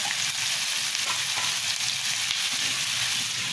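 Ridge gourd and prawn curry cooking in a covered pan, a constant close sizzling hiss with faint bubbling and stirring sounds, steady throughout with no voices.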